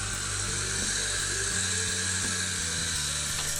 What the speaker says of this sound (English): And I'm drilling this out